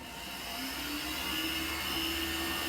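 A manual M6 inkjet date coder runs over a conveyor belt, giving a steady, loud mechanical whir and hum with a faint tonal whine, continuous and unbroken with no talking.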